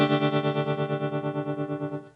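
Electric guitar chord sustained through a Catalinbread Semaphore tap tremolo pedal, its volume pulsing in a steady, fast rhythmic chop of about a dozen even throbs, loud and alone with a slightly driven tone.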